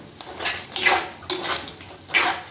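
Clattering scrapes of a spoon against a pan as gavran-style crab curry is stirred, three separate bursts of metallic scraping, close and fairly loud, with no voices.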